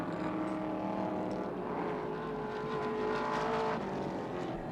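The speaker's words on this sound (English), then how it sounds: "Jim Richards going down the inside of Alan Grice and claiming third place in the BMW." Touring race cars lapping Oran Park in 1984, including a BMW, produce a steady, continuous engine drone. It holds at a constant loud level with slight swells as cars pass, and no voices are heard.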